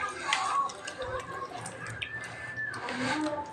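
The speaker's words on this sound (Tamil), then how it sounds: "கையில் நல்லா இப்படி போட்டு குழைய நம்ம பிசையணும்." Ragi dough worked by hand with hot and cold water and salt, giving soft wet squishing and dripping sounds close up, with speech over it.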